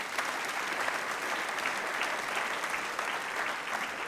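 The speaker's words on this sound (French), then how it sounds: "Est-ce qu'on peut les applaudir bien fort?" An audience in a French church service claps steadily and warmly, a dense, even wash of applause without pauses.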